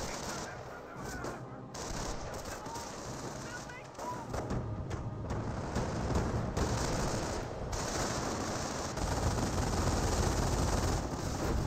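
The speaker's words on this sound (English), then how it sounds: "Rifle squad here getting hit by the autocannon." Autocannon fire raking an infantry rifle squad in the Company of Heroes strategy game, dense rapid bursts and gunfire crackling continuously at moderate loudness, with a voice talking over it.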